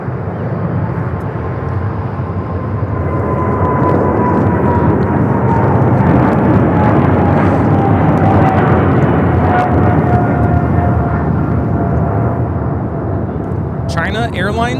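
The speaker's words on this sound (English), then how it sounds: "5382 taking off to Miami, Florida on the 777 freighter" A China Airlines Cargo Boeing 777 freighter takes off, a loud sustained engine roar with a slowly falling whine that persists throughout, while a voice talks over it.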